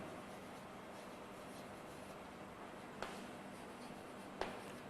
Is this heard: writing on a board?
yes